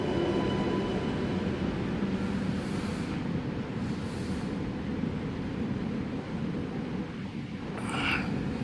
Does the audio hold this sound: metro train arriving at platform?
yes